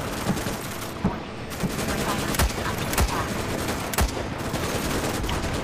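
Repeated sniper rifle shots ring out in the Starship Troopers Extermination video game, sharp cracks about once a second over a dense, noisy battle background.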